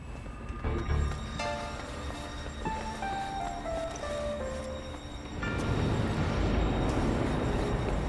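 A steam train in Sniper Elite: Nazi Zombie Army gives off a whistling chord that slides downward, then a loud rushing hiss of steam takes over and holds steady.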